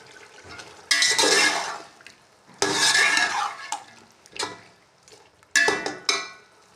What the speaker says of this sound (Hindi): अब इसी में हम अपना चिकन डाल देंगे और इसको हम फ्राई करेंगे अच्छे तरीके से